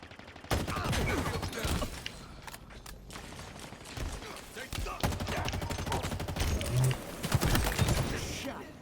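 Rapid gunfire bursts and single shots from the Halo Infinite video game rattle close and loud, with mechanical clanks and game effects layered throughout in near-continuous bursts.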